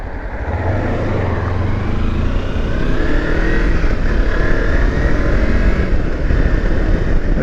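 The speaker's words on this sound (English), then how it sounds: "there's a car coming" Car approaching on a dirt road, heard from a Kawasaki Versys X300 on stock road tyres, a loud, continuous engine and road roar that holds steady and swells slightly over several seconds.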